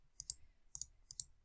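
Buttons tapped on a calculator while entering numbers, three quick pairs of crisp plastic clicks, close and quiet with no talk.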